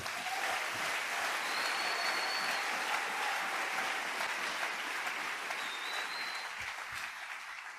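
A church congregation applauds steadily throughout, a dense wash of many clapping hands at moderate volume that fades slightly toward the end.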